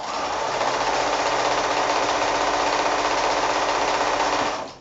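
A sewing machine runs steadily as it chain pieces green and grey quilt fabric strips, a continuous close whirring hum lasting nearly five seconds with no pauses and no voices.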